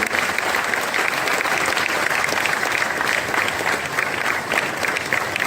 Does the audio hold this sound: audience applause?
yes